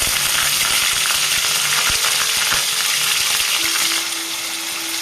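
Cut potato pieces fry loudly in a pan for pulao, a dense, continuous sizzle close by with a few sharp clinks of utensil on metal, easing slightly in volume toward the end, with no talk.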